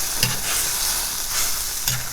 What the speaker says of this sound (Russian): Проверяем наш зерлак, как варится. Ой, хорошо кипит.